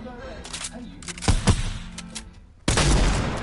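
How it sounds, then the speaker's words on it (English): Rapid bursts of gunfire from a PS4 shooting game, loud close cracks in quick clusters followed by a sustained volley, with a voice talking over parts of it. "He's so angry, he keeps shooting me."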